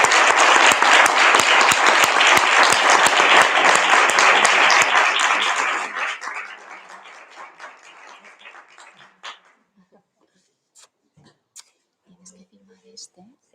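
Loud, thick applause from the audience at a book presentation of Flores de papel at a Euro-Arab foundation, sustained for several seconds before tapering off into scattered claps, shuffling and quiet voices.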